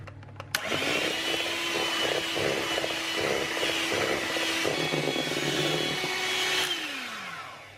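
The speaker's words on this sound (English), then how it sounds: "So I'm going to use electric hand whisk and whisk until we've got lovely meringue whipped egg whites." An electric hand whisk whipping egg whites into stiff meringue for an almond flour dessert runs as one steady, loud motor whir for about seven seconds, close up, starting abruptly and winding down at the end, with no talking.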